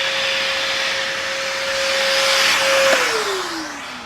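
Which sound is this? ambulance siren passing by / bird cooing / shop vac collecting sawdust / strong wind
shop vac collecting sawdust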